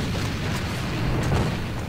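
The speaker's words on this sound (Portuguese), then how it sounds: "lança de uma granada" A grenade goes off in the shooter game A.V.A, a dull, rumbling boom that rolls on for a couple of seconds at moderate loudness with no sharp crack.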